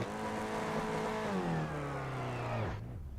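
A Renault Clio Cup race car engine revving steadily on the line during a practice start at Monza, its pitch holding high and then sagging before cutting off sharply near the end.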